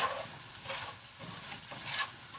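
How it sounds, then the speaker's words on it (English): Shrimp spaghetti sauce with tomato paste, cayenne and black pepper being stirred in a pan, a soft, steady sizzle and scrape with a few swishes, quiet and close, without talk. "let me stir this around first"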